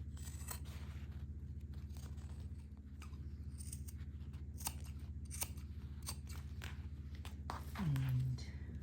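Scissors trimming fabric for a sewn lip balm holder: repeated crisp snips close by, over a steady low hum, with a short vocal murmur near the end.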